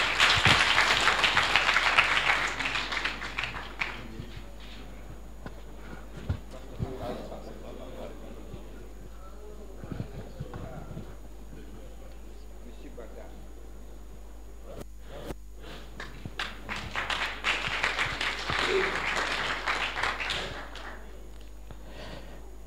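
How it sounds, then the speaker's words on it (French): Audience applause fills a hall at a graduation ceremony for hydrology engineers, with a loud sustained burst at the start. Quieter shuffling and scattered claps follow before a second strong round of clapping swells near the end. "Sous vos applaudissements"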